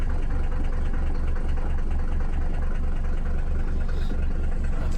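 A Mercedes 300D diesel engine, bought at auction and long unused, idles with a steady, even low throb and rhythmic pulsing, close and alone without any talk.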